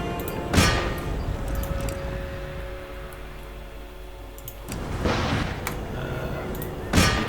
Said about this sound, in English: This unit's getting really hammered by the artillery.